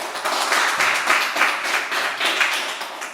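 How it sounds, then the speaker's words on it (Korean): Church youth congregation clapping at a Sunday service as a preacher comes forward, a steady crowd of hand claps at moderate loudness with no speech. "나오실 때 박수 부탁드립니다."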